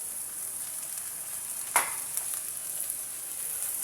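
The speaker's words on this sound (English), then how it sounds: "Onion is cooking before I add in the veggies." Onion and vegetables frying in a pan, a constant bright hiss of sizzling oil with one sharp crackle and a few small spatters, close and steady.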